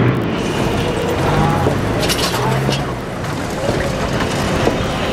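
Tram running along a city street in Colombia, a steady broadband rumble and rattle of rail traffic mixed with road noise, moderately loud and continuous, with faint voices in the background.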